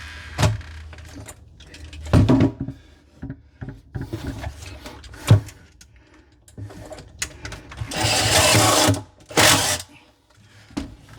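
Screws being driven into a wooden cabinet box, with bursts of drill whir, a longer sustained driving run, and rubbing, clicking handling noises of wood and hardware in between, close up.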